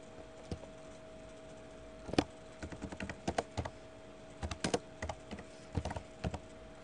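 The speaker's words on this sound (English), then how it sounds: "type in the body of your message" Keys on a computer keyboard are tapped in short, irregular bursts of quiet clicks while an email message is typed, with no talking.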